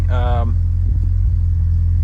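An Audi B7 A4 with the 2.0 TFSI engine idles roughly just after starting, a steady low engine rumble that runs through the whole stretch, with a brief tonal voice-like burst at the start.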